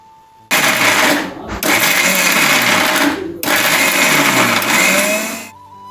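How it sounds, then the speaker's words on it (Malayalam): A kitchen mixer grinder crushes gooseberries and shallots for herbal hair oil, a loud close whirring roar run in three bursts with brief pauses between. "ഇനി ഒന്നൊന്നായി നമുക്ക് മിക്സിയിലിട്ട് അരച്ചെടുക്കാം"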